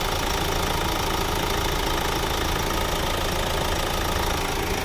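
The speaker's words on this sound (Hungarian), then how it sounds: "A Ecotec motorunk az itt dolgozik, úgy mondottam 170 lóerős" A 170-horsepower Opel Antara 2.0 CDTI Ecotec diesel engine idles steadily, a dense, even, broadband rumble with a slight knocking texture, loud and close, with no one talking.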